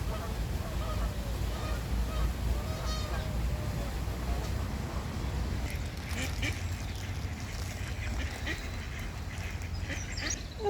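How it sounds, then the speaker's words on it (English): Waterfowl call at a park pond where an Egyptian goose mingles with ducks being fed, repeated quacking and honking at mid distance against outdoor ambience, with scattered bright calls later on. "Another Egyptian goose."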